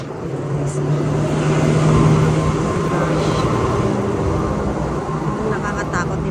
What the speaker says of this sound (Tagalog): Nakakatakot din pag maraming sasakyan